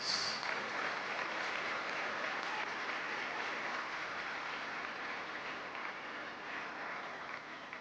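Sustained applause from a convention audience of track and field coaches, a steady wash of clapping that holds evenly throughout at a moderate distance.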